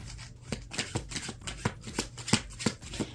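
Tarot cards are shuffled by hand in a run of crisp, riffling bursts about every half second, close and fairly quiet, with no talking.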